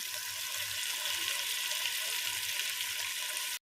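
Chicken pieces frying in hot oil for a Telugu chicken curry, a steady close sizzle with soft bubbling and occasional stirring knocks, continuous and fairly loud throughout with no voices.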